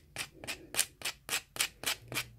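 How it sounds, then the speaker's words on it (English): A cabochon rubbed on sandpaper in a steady circular motion at an even angle, giving about nine regular, evenly spaced scratchy strokes, close and fairly loud, with no talking. "just go around keeping your cabochon and your sandpaper on an even"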